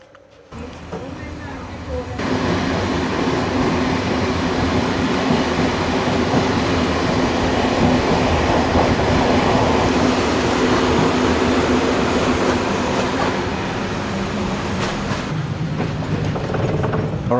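A sleeper train from Budapest to Brasov rolls along the rails, a loud continuous rumble with rattling carriage mechanisms and a steady metallic clatter, heard from inside the car and building up after a quieter start.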